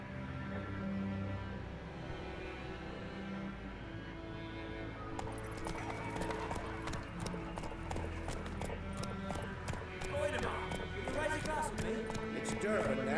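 Roach the horse gallops in The Witcher 3 with rapid, rhythmic hoof clip-clops that quicken and grow louder partway through, over steady game ambience and background music.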